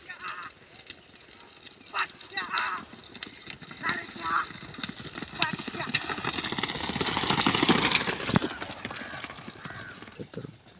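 Bulls' hooves pound along during a bullock cart race, a dense running clatter that swells louder toward the middle amid a noisy crowd and commentary.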